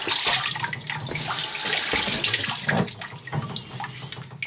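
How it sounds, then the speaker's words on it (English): Water runs from a tap over a pitch lap being rinsed for telescope mirror polishing, a close, loud steady splashing with shifting gurgles throughout and no voices. "And then I just take a rinse"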